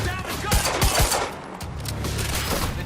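Video game Quantum Break gunfire crackles in a loud close firefight, several sharp shots in quick succession early on, then sustained battle noise with shouted voices mixed in.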